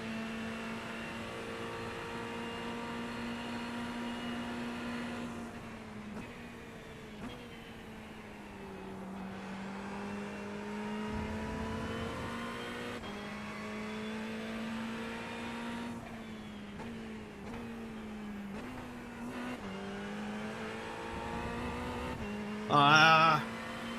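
Race car engine in a racing simulator game on a motion rig, droning steadily with its pitch rising and falling through revs and repeated downshifts, alone and loud throughout, with a brief louder burst near the end.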